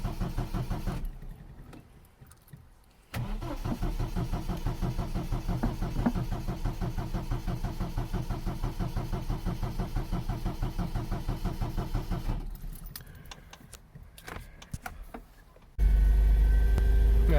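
An MGB GT sports car engine cranks and catches, then runs at a steady, slightly high idle with too much choke, loud and close, with a brief pause before the revs settle again.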